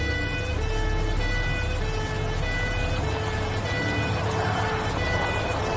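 A police car siren wails steadily and fairly close, its tonal pulses layered over the rumble of road traffic, with no one speaking.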